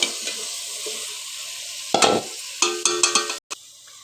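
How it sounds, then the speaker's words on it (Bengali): Cauliflower goes into a pan of frying spices, making a sudden loud sizzle burst followed by a run of rhythmic scraping stirs against the pan. "তো আমি এখানে ফুলকপিটা দিয়ে দিচ্ছি।"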